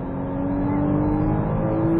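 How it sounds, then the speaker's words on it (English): A Porsche Cayman S on a racing track in Las Vegas accelerates at full throttle, its engine holding a loud, steady, rising drone heard close from inside the car, with no talk over it. "Now squeeze the throttle hard into here."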